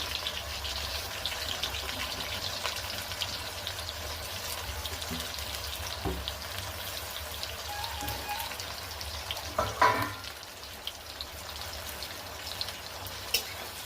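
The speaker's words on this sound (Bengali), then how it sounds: "এবারে কাটা পেঁয়াজগুলো দিয়ে দিলাম।" Chopped onions fry in hot oil with a steady, close crackling sizzle, broken near the end by a brief clatter of utensil contact.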